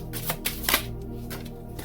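Angels Answers oracle cards being shuffled, a few quick riffling bursts and soft flicks close by, fairly quiet, with no talking.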